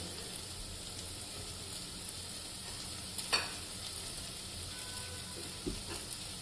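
Bottle gourd vegetable frying in a pan while being stirred, a faint steady sizzle with a couple of brief scraping clinks from the stirring, quiet and without speech.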